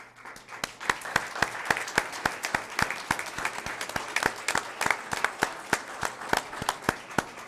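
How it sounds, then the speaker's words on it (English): At a school board meeting, a modest crowd claps as a high school group walks to the stage; the claps are fairly quiet, sparse and evenly spaced, almost rhythmic, with no talk over them. "Please, round of applause as they make their way to the stage"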